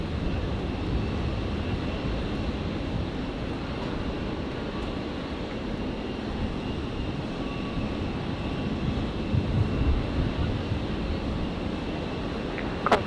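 A Qatar Airways airliner at Brisbane airport, heard as a steady, broadband engine roar with wind buffeting the microphone, holding at an even level throughout.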